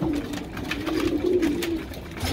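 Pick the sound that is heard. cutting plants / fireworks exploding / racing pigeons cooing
racing pigeons cooing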